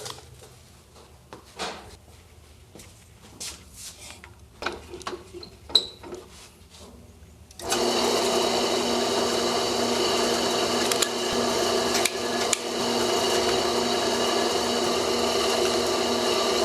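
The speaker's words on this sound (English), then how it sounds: "Now it's time to drill at these ones to the bigger size" A power drill bores holes in a Kydex sheath, starting after a quiet stretch of small clicks and handling noises, then a steady, loud whirring grind that runs continuously to the end.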